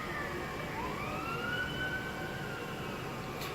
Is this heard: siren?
yes